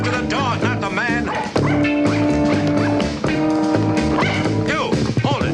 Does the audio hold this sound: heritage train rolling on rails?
no